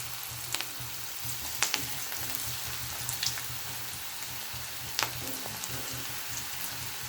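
Aval pakoda frying in hot oil gives a steady, bubbling sizzle with a few scattered pops and spatters, close and fairly quiet, with no talking.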